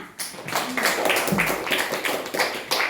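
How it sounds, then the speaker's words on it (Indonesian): A group claps in a classroom-style setting, a short run of irregular, fairly close hand claps with a murmur of voices beneath. "Iya, tepuk tangan."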